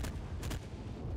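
Tank machine gun firing in the video game Enlisted, a dense burst of rapid, heavy reports with a deep booming rumble, loud and close, repeating throughout a short moment with no voices.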